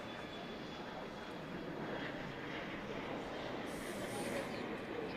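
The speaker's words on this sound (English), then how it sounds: "Iberia taking off over here" An Iberia airliner takes off at night at DFW airport, a steady, fairly distant jet engine roar that swells slightly toward the end.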